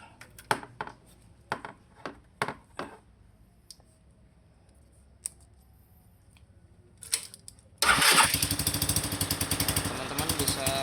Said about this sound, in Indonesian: bisa mendengarkan ada suara seperti gas buang yang bocor dari lubang sini ya